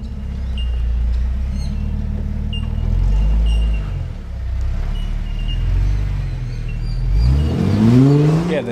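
A Jeep TJ engine labours and revs as it climbs a rock step on an off-road track, loud and close, with the engine note rising near the end.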